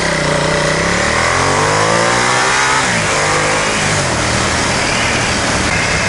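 Ducati XDiavel motorcycle engine revving hard with a deep growl, pitch sweeping up then dropping and climbing again, loud and close over steady wind rush, no voices.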